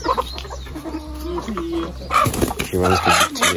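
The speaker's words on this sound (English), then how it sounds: "The cock." A rooster in a Kenyan village crows and clucks loudly and close by, with overlapping outdoor voices and rustling around it.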